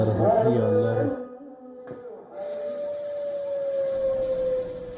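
A siren wails over Srinagar during a wartime blackout, holding a long steady tone, with faint background noise and a brief earlier rising sweep.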